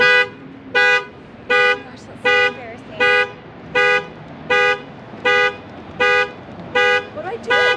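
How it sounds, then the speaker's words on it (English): A Ford Mustang GT's alarm sounds its horn in a steady, loud rhythm, about eleven evenly spaced honks close by, while a voice speaks faintly in the background. "Pretty sure that my butt hit the alarm."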